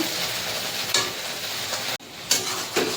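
Coconut-poppy seed prawn curry with taro stolons is stirred in a pan, a close steady sizzle broken by several sharp scrapes of the spoon against the metal and one brief dropout.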